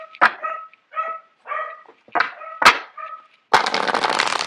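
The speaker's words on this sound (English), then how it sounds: "I apologize for the dogs barking in the background." Dogs bark in short, repeated bursts a few times, fairly close and sharp, followed by a loud rough scuffling noise at the end.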